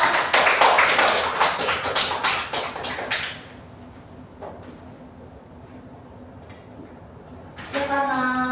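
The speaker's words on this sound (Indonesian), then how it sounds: "kita kasih tepuk tangan dulu buat Alifah." A classroom of students claps for a classmate after a correct answer in a microteaching lesson, a dense burst of hand claps for about three seconds, then a quiet room with a brief voice near the end.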